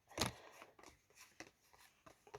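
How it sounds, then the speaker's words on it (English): Tarot cards are being shuffled in a quiet room, a soft, faint series of riffling slaps and brushes with one sharper snap at the start. "I'm just preparing these cards again for another shuffle"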